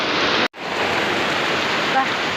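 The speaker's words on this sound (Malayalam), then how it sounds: "നല്ല മഴയാണ് പെയ്യണത്" Dense, steady roar of heavy rain pouring down nearby, broken by a brief cut near the start, with no talk.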